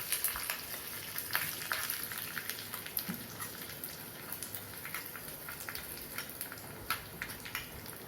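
Garlic and mustard seeds tempering in hot oil give a fine, continuous crackle and spatter with scattered sharp pops, fairly faint and even throughout.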